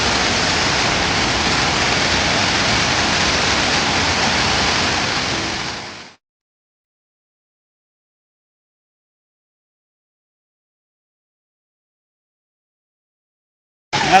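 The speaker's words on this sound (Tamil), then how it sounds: "இப்போ அதுக்கு அடுத்த அடுத்து இந்த அருவியில் குளிக்கும்." Manalaru falls pours down in a steady, dense roar of rushing water for about six seconds, then cuts off abruptly into silence before a short burst returns at the very end.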